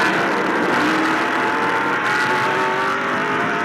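Stock race cars at Martinsville Speedway roar loudly and continuously, several engines droning at high revs with shifting pitch as they run close by, no voices present.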